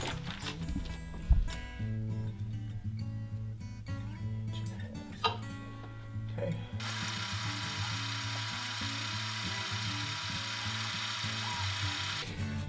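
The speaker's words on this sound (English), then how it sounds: "we're gonna drill the holes for those" A power drill whirs steadily for several seconds, drilling holes in a door frame for a Norton Rixson 1601 door closer, after some earlier clicking and mechanical rattling, fairly close and with no one speaking.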